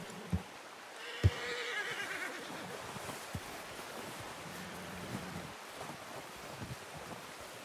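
A horse in Red Dead Redemption 2 gives a brief whinny amid outdoor wind noise, with a couple of sharp thumps and faint hoof clops nearby in a quiet wilderness setting.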